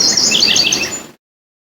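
A West Coast warbler gives a bright, sweet song, close and clear, with high chirping notes that run for about a second and then stop abruptly.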